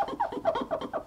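Squeaky rubbing on a cleaned part of a Cannonball tenor saxophone after glue removal, a series of short rhythmic squeaks about five times in quick succession, close and moderately loud, with no talking.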